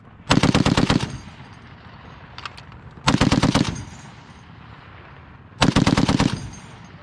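An M2 .50 caliber heavy machine gun fires at a US Army range at Fort Lewis in three loud, close bursts of about five to seven rapid rounds each, separated by pauses of roughly two seconds.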